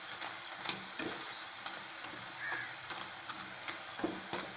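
Ingredients for a Malabar sweet snack frying in a pan, a steady sizzle with scattered crackles and light stirring clicks throughout, no voices.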